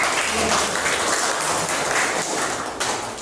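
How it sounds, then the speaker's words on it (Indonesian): A group of participants in a training session applauds, a brief burst of mixed clapping that swells and then thins, moderately loud, with no clear voices. "berikan dulu tepuk tangan"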